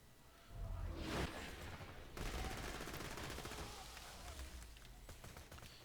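Sustained gunfire from the video game Borderlands 2, a dense rattling fusillade with a sharp whoosh near the start, running continuously at moderate volume for several seconds.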